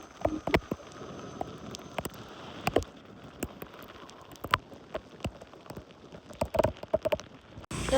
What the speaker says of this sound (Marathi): तिकडचं दृश्य बघा पूर्ण पावसाने वेढलेलं आहे